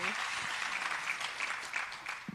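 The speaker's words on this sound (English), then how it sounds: "I'd like us to just give one last round of applause, Nyana." An indoor audience at a studio unveiling in Pretoria claps in a fairly faint, brief burst of applause, with a voice briefly audible over it.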